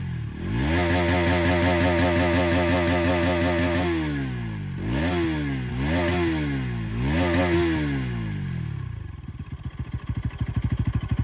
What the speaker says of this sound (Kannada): ಈ ಗಾಡಿ ಸೌಂಡ್ ಕೇಳೋಣ ಬನ್ನಿ